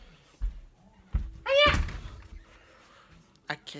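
A door kicked shut gives a single solid slam with a thudding impact, set among scattered household noises and a brief voice.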